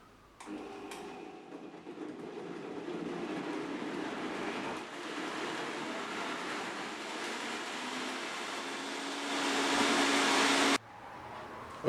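A blender whizzes up a spinach smoothie with about 66 grams of spinach, a steady loud motor whir running for about ten seconds and then cutting off abruptly, with no talk over it.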